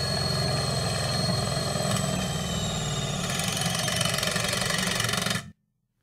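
Makita compact drill/driver straining through a torque test, a loud steady motor whine with a rapid pulsing clatter that runs for about five seconds and then cuts off abruptly into silence.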